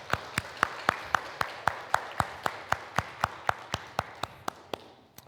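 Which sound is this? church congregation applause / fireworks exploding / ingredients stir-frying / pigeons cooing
church congregation applause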